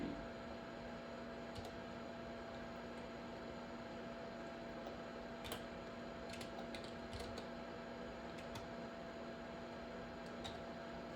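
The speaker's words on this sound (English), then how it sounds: "I actually do have a keyboard hooked up" Keys on a computer keyboard plugged into a Tektronix TDS5054B oscilloscope click in faint, scattered bursts over a constant electrical hum and fan hiss.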